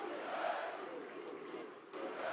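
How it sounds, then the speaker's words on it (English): A packed college basketball arena crowd roars in a loud, sustained wash of noise late in a tight game, with shouts rising and falling under a commentator's voice. "Listen to this crowd."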